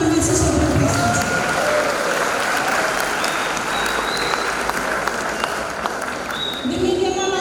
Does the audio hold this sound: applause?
yes